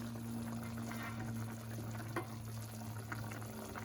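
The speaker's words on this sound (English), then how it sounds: "Put your eggs in the bottom of the broth." Eggs lowered into simmering broth for Cambodian caramelized pork and eggs (Kaw/Thom Khame), a soft, steady bubbling and liquid wash throughout, low and close with a faint constant hum beneath, no talking.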